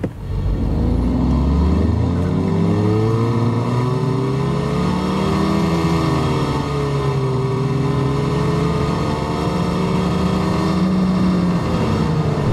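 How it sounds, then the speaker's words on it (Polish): A 2025 Omoda 5 with a 1.6 T-GDI turbo petrol engine accelerates hard toward 100 km/h, the engine note climbing through gear changes in a loud, continuous interior drone. "Tak samochód z nią przyspiesza od 0 do setki."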